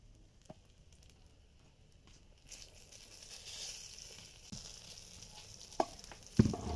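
Brinjal slices on a tawa start sizzling after being flipped: quiet at first, then a hiss rises and holds at a moderate level, dotted with a few sharp clicks and taps near the end.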